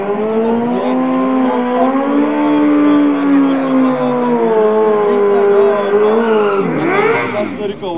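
A BMW X6 at a quarter-mile drag race on the Piła airfield squats slightly as it revs through its launch procedure, a loud steady engine drone that rises and climbs sharply near the end as it pulls away.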